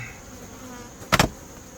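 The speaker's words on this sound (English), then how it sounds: "It looks like a bunch of healthy bees." Carniolan honeybees in an opened horizontal hive give off a faint, steady drone, broken by one short, sharp knock near the end.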